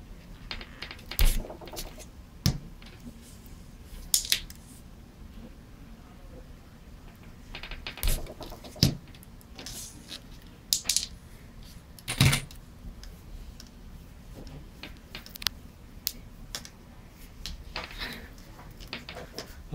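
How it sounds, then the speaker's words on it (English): Hand wire stripping, with several sharp clicks and snips of the tool biting into the insulation scattered through a quiet indoor setting, close and fairly faint, no talking. "Next you'll need to strip the wire."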